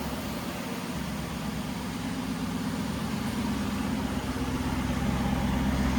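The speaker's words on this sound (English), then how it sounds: "Let's go around and we'll hear the exhaust." A 2012 Aston Martin V8 Vantage idles steadily, its exhaust giving a low, even rumble with a faint broadband hiss and no voices.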